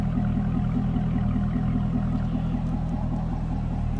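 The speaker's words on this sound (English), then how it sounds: "So aftermarket exhaust, we got a little deeper exhaust note on this one." A 2012 Chevrolet Corvette Grand Sport convertible with an aftermarket exhaust idles nearby, a steady deep, low rumble with an even throb that holds throughout, no voices.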